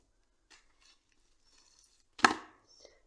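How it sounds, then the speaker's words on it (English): Scissors snip through string while making a small flower arrangement in an upcycled pesto jar, a few faint rustles followed by one sharp, close cut. "And cut the string."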